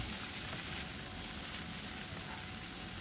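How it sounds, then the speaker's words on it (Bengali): Taro root with salt and turmeric cooks in a pan over a low-to-medium gas flame, giving a soft, steady, even sizzle throughout and no talk. "তো নুন আর হলুদ দিয়ে দেওয়ার পর আমি ভালো করে এটাকে আবারও মিশিয়ে নিচ্ছি।"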